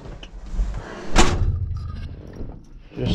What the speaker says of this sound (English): I'll shut the door.